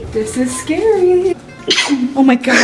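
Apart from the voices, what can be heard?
sneeze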